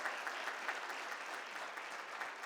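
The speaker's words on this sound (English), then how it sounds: "So please give them a round of applause" Audience applause at a school district State of the District gathering, a soft, steady wash of clapping from many hands, fairly faint and distant, with no speech over it.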